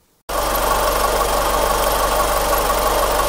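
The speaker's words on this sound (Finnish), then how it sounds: "Moottori käy nätisti" Nissan Almera engine idling, a steady close-up mechanical hum with an even low throb that starts after a brief silence and runs without change, no voices.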